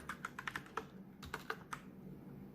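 Java code being typed on a computer keyboard: a run of quick, close key clicks in short bursts, a brief pause, then several more taps, with no talking.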